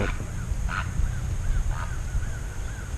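A crane outdoors calls repeatedly as it flies off, sending short rising-and-falling cries at moderate distance over constant wind rumble.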